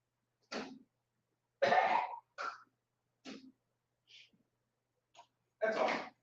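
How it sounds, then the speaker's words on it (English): Several short throat-clearing bursts and coughs come one after another with pauses between them, close and fairly quiet. "I'm just gonna walk over here and clear my throat."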